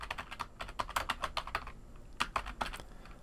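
A file name being typed on a computer keyboard: quick, irregular bursts of light key clicks close to the microphone, with a short pause partway through before the tapping resumes.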